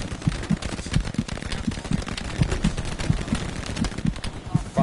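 Gunfire from the World War II shooter game Hell Let Loose, with rapid bursts of machine-gun and rifle shots cracking at a fairly even rhythm over a noisy battlefield background, heard at moderate loudness.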